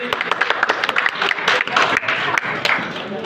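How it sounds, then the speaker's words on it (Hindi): An audience at a political gathering in Odisha breaks into loud, dense clapping, a fast crackle of many hands sustained throughout with a voice faintly mixed in. "ताको बड़े जोर कर ताली देबे"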